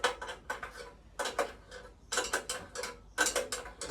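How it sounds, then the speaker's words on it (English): A wrench ratchets down cheap old header bolts on a motorcycle exhaust for a CB Performance 2017cc engine build, giving several quick bursts of close metallic clicking separated by brief pauses. "And I'm just going to tighten these down. The header bolts."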